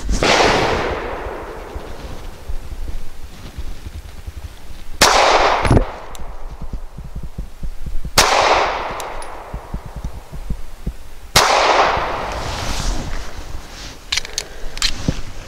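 Three loud, sharp gunshots from a Springfield Armory 380 911 pistol firing Liberty 65 grain ammunition, spaced a few seconds apart, each with a ringing outdoor decay and quieter handling noise between shots.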